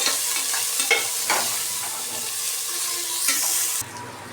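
Onions sautéing with rock salt in a pan, a continuous close sizzle with intermittent stirring scrapes, ending in a short, softer, quieter stretch.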